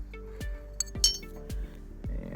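An antique 1850s–1860s black glass bottle top with a pour spout clinks as it is handled, giving several sharp glassy taps spaced about half a second apart, close-up over low background rumble.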